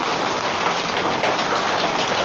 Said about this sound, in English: there is hail coming from the sky